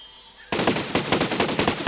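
Minigun in Besiege firing a rapid, loud burst that starts abruptly after a faint hum, with evenly spaced rattling shots continuing without pause, no talking.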